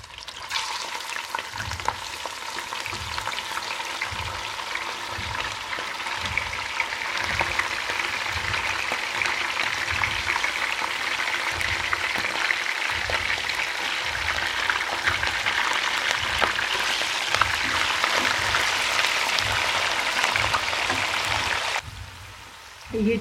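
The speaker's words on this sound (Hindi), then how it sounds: "ये चिकन को हम तकरीबन ब्राउन लाइट ब्राउन करने तक पकाएंगे। ये 10 से 15 मिनट इसको हम इसी तरह घी में फ्राई करेंगे।" About a kilogram of chicken sizzles and crackles in hot ghee in a karahi for a Peshawari namkeen karahi, a steady close frying hiss with rhythmic stirring scrapes throughout.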